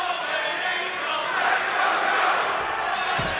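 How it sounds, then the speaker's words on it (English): Wrestling crowd at a Ring of Honor show cheering and roaring steadily throughout, a dense, loud wash of voices filling the arena with no clear pauses. "As we hear the crowd"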